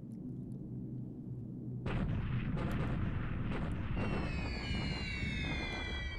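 A bombing raid in War in the Pacific hits with a sudden rumbling blast, followed by further heavy crashing explosions and a rising whistling layer, all loud and close, with no voices.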